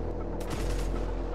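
Autocannon fire in the video game Redcon, a rapid burst of loud gunfire starting partway in over a steady low game rumble, with no talk.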